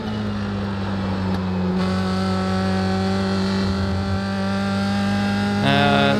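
USF2000 open-wheel race car engine in iRacing at Summit Point, a loud, sustained buzzing drone that climbs slowly in pitch, slightly bogged, then jumps up sharply near the end.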